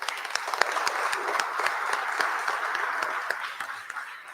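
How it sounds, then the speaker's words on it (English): A crowd applauds steadily at a community candidate forum, many hands clapping in a dense, continuous patter that holds for a few seconds before easing slightly. "Give yourselves a round of applause."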